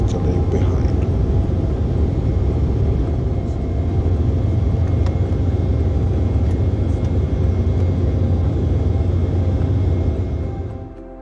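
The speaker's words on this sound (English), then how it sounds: "Soon enough we roll out and take off and left Venice and Italy behind" An Austrian Airlines jet rolling out and taking off from Venice, heard from inside the cabin as a loud, steady low engine roar and rumble that fades toward the end.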